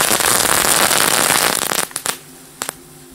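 A Lady Knaller 400 mat of small lady-cracker firecrackers goes off in a loud, dense crackling burst that thins out into a few last sharp pops.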